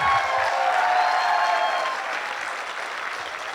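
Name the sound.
audience applause for first-time guests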